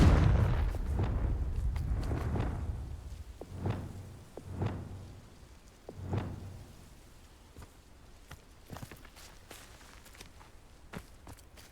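Confringo fire spells blasting in Hogwarts Legacy on PS5 during a battle arena fight against Forbidden Forest guardians: a series of sharp booming bursts with rumbling tails, several in the first half and fainter thuds after, with no talking.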